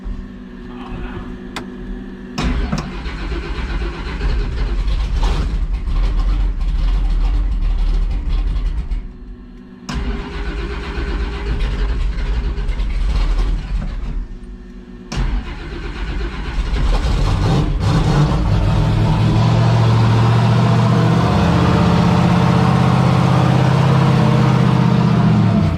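A turbocharged Oldsmobile engine with a poor cold tune runs loud and rough nearby, surging and dipping in uneven bursts before settling into a sustained heavy roar.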